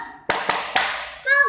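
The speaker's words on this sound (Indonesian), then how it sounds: "yuk kita tepuk semangat dulu ya" Children in an Indonesian class do a rhythmic spirit clap, a few sharp hand claps in a short pattern, followed by a brief voice at the end.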